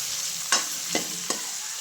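Tomato cooks in hot oil with a soft steady sizzle, broken by three sharp scraping strokes of a spoon against the pan, close and alone.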